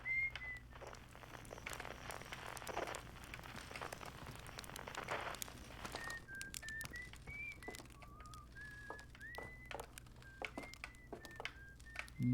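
A tune is whistled in the video game Outer Wilds: a sequence of short, sliding whistled notes over faint patter and clicks, moderately quiet.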